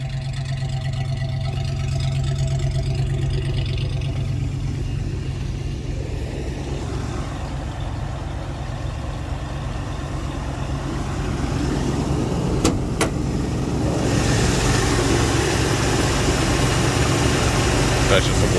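A 1976 Ford F-150 truck engine idles after a cold start, a steady low rumble running throughout with a sharp click partway and a slight rise near the end; someone talks over it.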